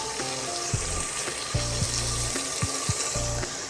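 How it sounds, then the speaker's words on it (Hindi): Chicken pieces fry with garlic, ginger and onion in a pan, a continuous close sizzle broken by several short scraping stirs, with no speech. "चिकन डाल के भी 2 से 3 मिनट तक हमने इसे भूनना है।"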